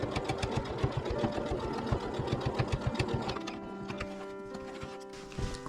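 Sewing machine stitching the bottom seam of a patchwork hexagon tote bag, a fast, even mechanical chatter close up that slows and softens toward the end.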